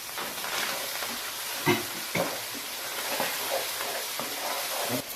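Masala for a fish curry frying in oil, a continuous close sizzle and hiss with scattered stirring scrapes and soft spatters, with no voice over it.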